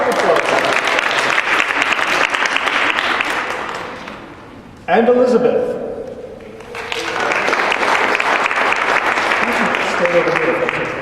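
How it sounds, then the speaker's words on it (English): Audience at a library reading applauding volunteers called up to participate, a dense steady clapping that breaks briefly while a nearby voice speaks, then swells back up and carries on loud to the end. "Round of applause"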